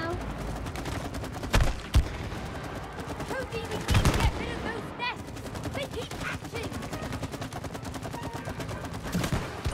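Rapid gunfire in the co-op game It Takes Two, a dense run of quick repeated shots with a few louder bursts and game effects, heard alongside light talk.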